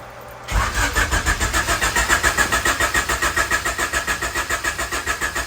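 A turbocharged Honda H22 engine in a CB7 cranks without catching, the starter churning in a fast, regular pulsing rhythm after a sudden onset, loud and close, with no firing.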